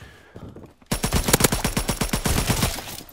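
Rapid automatic gunfire from an iron-sight weapon in the Call of Duty WWII video game, a loud, close, evenly spaced burst of about twenty shots lasting over two seconds after a brief quiet moment.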